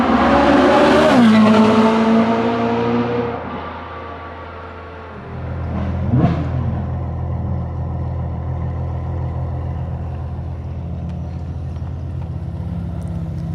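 Ferrari 458 with V8 engine driving, a loud high revving wail that climbs then drops through a gear change, fading to a lower steady engine drone with a brief rising burst midway.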